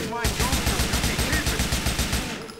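Rapid automatic gunfire from GTA IV: The Ballad of Gay Tony, a steady stream of close, loud shots in even rhythm for a couple of seconds, without any speech over it.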